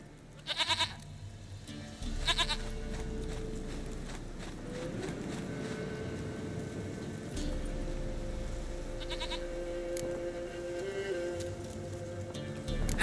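Quiet bleating from a goat in The Witcher 3: Wild Hunt, a couple of short calls early on over a steady low game ambience, with faint clip-clop hints of a horse in the background.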